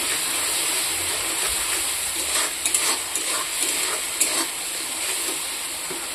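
Spices with salt and turmeric fry in a pan for an eggplant and dry fish curry, a loud, steady hiss with occasional stirring clicks and scrapes.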